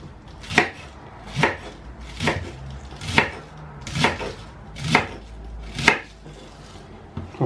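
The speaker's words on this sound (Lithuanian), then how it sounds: "Pirmiausia, susipjaustom kopūstą" Cabbage is chopped very finely with a knife on a board, eight sharp, evenly spaced chops close to the listener, each a crisp crunch and thud, with no one talking.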